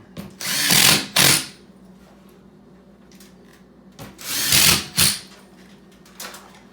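A power drill drives screws through drywall into hidden joists, two loud whirring bursts each followed by a short second spin, with quiet gaps between them.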